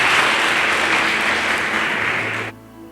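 A church congregation applauds loudly and densely in a steady roar of clapping that cuts off abruptly near the end, leaving a quiet tonal background.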